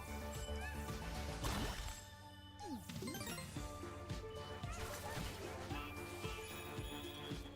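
A horse neighs in the video game Astro Bot, a loud whinny set in a busy, dense mix of game music, jingles and crashing effects.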